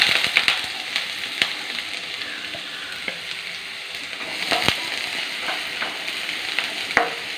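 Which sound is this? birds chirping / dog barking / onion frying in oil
onion frying in oil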